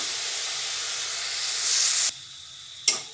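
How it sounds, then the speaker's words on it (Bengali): Spice paste for a fish curry fries in hot oil with a loud, steady sizzle that suddenly drops to a quieter hiss, followed by a brief clink of a utensil. "মশলাটা একটু ভাজা হোক"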